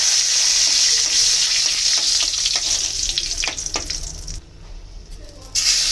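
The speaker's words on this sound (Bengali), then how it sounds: "ফোড়নে দিয়ে দিলাম শুকনো লঙ্কা, তেজপাতা।" Dried red chillies and bay leaves sizzle in hot oil for a Bengali taro and fish curry, a loud close crackling frying hiss with stirring clatter, briefly dropping off before resuming.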